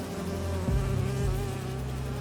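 Holographic bee wolves in the game Marvel's Spider-Man 2 give off a continuous insect-like buzzing drone, steady and close, with a couple of low thumps partway through and no speech.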